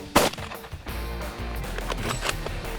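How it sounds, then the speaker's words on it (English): A single loud, sharp rifle shot at a buffalo bull with a 300-grain Federal soft-point load, a sudden crack that fades into a low rumbling field ambience. "Take a shot at him."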